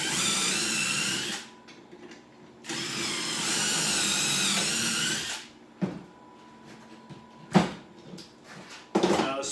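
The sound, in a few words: drill boring pocket holes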